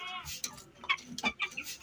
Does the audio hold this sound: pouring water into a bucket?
no